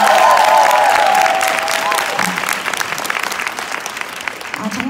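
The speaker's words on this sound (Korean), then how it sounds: "큰 박수로 시작하겠습니다." Seminar audience in a hotel hall gives big applause, loud dense clapping with some crowd noise and a faint tonal sound at the start, gradually easing off over about five seconds.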